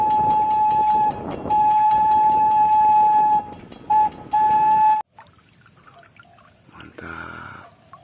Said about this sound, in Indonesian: kereta api Thomas teman-teman.